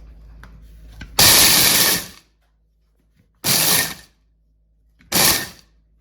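Three loud bursts of a Ninja food processor grinding and crushing candy canes, the first about a second long, then two shorter pulses with silence between.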